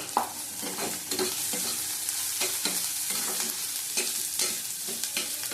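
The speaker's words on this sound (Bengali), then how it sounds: "এটা ভালো করে ভাজা হবে।" Onions sizzle and fry in a hot pan, with a steady crackle and repeated scraping stirs of a spoon, close up and without talking.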